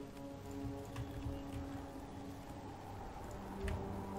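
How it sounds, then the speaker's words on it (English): Faint rain patters in a battle scene of the strategy game Empire: Total War, a soft steady wash under low ambient drones and occasional light ticks, no voices. "So, obviously, it's raining."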